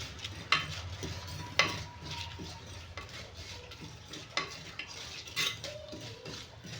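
Cumin and garlic roasting in a pan give a soft, low sizzle beneath intermittent scraping and stirring strokes, with several sharp metallic taps of a spoon against the pan, fairly quiet and close.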